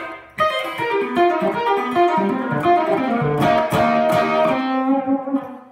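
Electric guitar played in open C tuning with pull-offs, a slightly driven tone with plucked notes ringing and overlapping continuously for several seconds, close and fairly loud, no talk.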